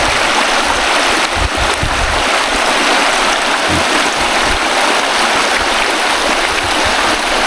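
Floodwater pours across a rural road between two villages, a loud, continuous rushing roar of flowing water that stays close and unbroken.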